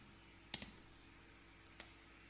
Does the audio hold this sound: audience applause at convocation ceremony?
no